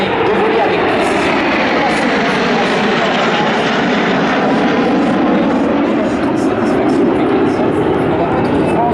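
Alpha Jet trainer jets of the Patrouille de France fly over an airshow, producing a loud, continuous engine roar that fills the whole stretch, with a slowly shifting tone as they pass, and commentary running beneath.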